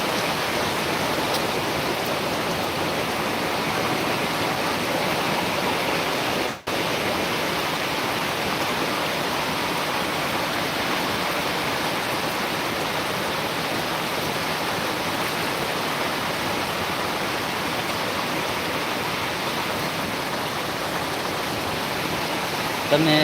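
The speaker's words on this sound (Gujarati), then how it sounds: "અત્યારે મારી પાછળ જોતા હશો વરસાદ ખૂબ વરસાદ આવી રહ્યો છે" Heavy rain pours down in Surat as a dense, even, unbroken roar of falling water that holds steady throughout, with a single brief dip partway through.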